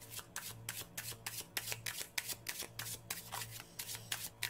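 Tarot cards being shuffled by hand, a steady run of crisp riffling flicks and rubs repeating about twice a second, close and quiet, with a faint low hum beneath and no talk.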